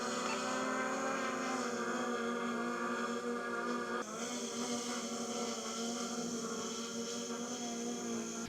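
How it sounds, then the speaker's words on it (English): A DJI Mini drone flies with a steady, high-pitched propeller whine that holds constant throughout, with a slight shift in tone midway, fairly faint and with no voices. "You can judge for yourself when I switch between the recordings of both drones."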